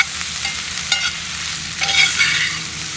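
Onions frying in a pan over a wood gas stove outdoors, a close, steady sizzle and crackle with a couple of louder bursts and scraping stirs; no voices.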